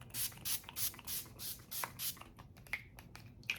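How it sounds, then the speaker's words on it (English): A series of short pressurized bursts of makeup finishing spray onto a face, about seven in quick rhythm, then a few softer faint sounds, close and clear with no talking. "Then I'll take my finishing spray here and spray my face"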